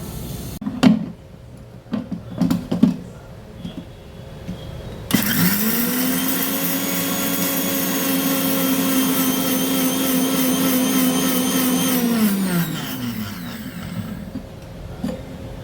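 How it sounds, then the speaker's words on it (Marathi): An electric mixer grinder blends poha, corn chivda, red chili powder, salt and rice flour into a powder: a few knocks and jar clatter, then a loud, close whirring motor that runs steadily for several seconds before winding down. "हे मिक्सरला लावून फिरवून घेऊया."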